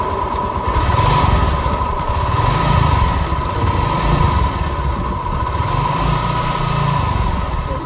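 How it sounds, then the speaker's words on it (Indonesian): A Honda Vario KZR motorcycle engine idles roughly, loud and close, with an uneven throbbing pulse under a steady mechanical whine and no voices. "Keluhannya suara mesin kasar, tarikannya juga kurang enak dah pokoknya."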